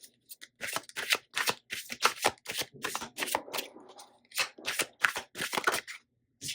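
Tarot cards are shuffled by hand in quick crisp riffling bursts, close and fairly soft, with brief pauses between runs and a few single card snaps near the end.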